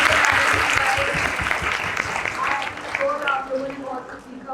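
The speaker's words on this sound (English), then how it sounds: "Big round of applause for all the panelists." Audience applauding the panelists at a content creators' event, with dense sustained clapping from a sizeable crowd and voices talking over it throughout.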